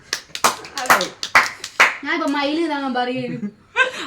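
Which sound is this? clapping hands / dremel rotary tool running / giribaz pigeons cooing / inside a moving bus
clapping hands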